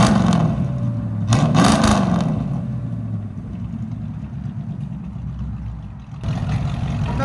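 A 1985 Chevy Monte Carlo with a 305 V8 on true dual straight-pipe exhaust rumbles at idle, with sharp revs early on and another rise at the end, loud and close.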